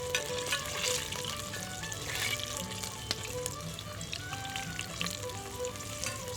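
Apple fritter batter frying in a pan for 18th-century cooking, a steady close crackling sizzle with scattered pops throughout.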